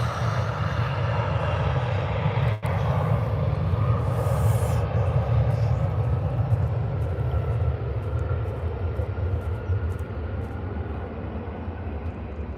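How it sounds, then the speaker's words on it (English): An Embraer jet taking off from Birmingham airport bound for Aberdeen, its engines building a heavy, sustained low roar that stays loud and steady, with a faint whine riding above and no talk. "Flying out this Embraer is back over to Aberdeen"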